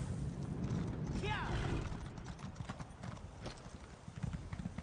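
Rhythmic horse hooves clip-clopping at a quick pace in a game, with a brief whinny early on and a voice speaking over the steady beat.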